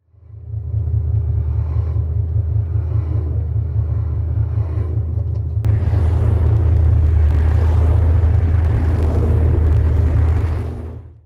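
Corvette C8 prototype test cars driving past on public roads, a heavy low engine rumble that holds steady and then swells louder partway through as a car nears, with no talk.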